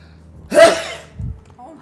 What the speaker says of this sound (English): I sneeze powerfully.